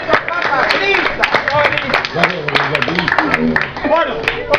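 A crowd at the San Baltazar Corpus festival gives a burst of applause with scattered sharp claps, while someone speaks loudly over it.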